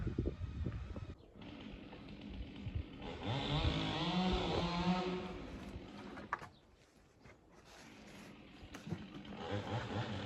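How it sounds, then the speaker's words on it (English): Trees being cut down nearby, with a chainsaw whining in sustained bursts at a moderate distance. Birds coo and chirp around it, and the saw sound rises and falls across the stretch. "Someone over there has been chopping down trees."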